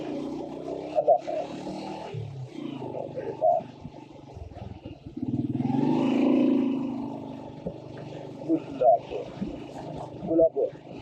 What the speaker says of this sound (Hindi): ये तो कीचड़ है बहुत ज़्यादा, मोटरसाइकिल फिसल रही है और निकल गए।